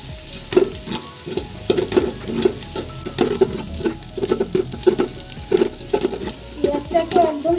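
Onions frying golden in hot oil, with a steady loud sizzle broken by frequent rhythmic scraping strokes of a spatula stirring in the pan, close and without talk.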